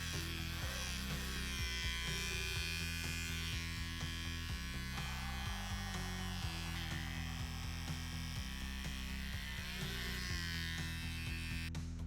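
An electric shaver buzzes continuously up close as it shaves fluff off model figures for a Skaven diorama, its motor pitch shifting slightly as it presses against the material, with no talking.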